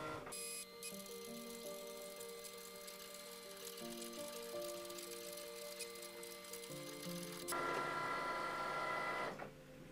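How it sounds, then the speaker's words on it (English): Cricut cutting machine running a foiling tool across a card, giving a steady mechanical whirring hum with layered tones that shift pitch as the head moves, then a louder, brighter burst of motor noise near the end. "Next I'll press the flashing C button and it will start foiling."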